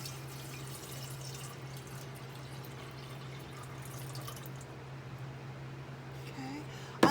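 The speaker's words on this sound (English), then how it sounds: "I'm going to add my water." Water added to a container of marbles while growing marimo moss balls, a faint steady trickle and drip under a low background hum, ending with a brief clink near the end.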